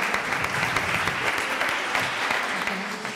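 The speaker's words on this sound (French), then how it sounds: "On les applaudit aussi quand même" An audience applauds at a science and technology vocation awards ceremony, a steady dense patter of many hands clapping at moderate distance, sustained evenly for a few seconds without pause.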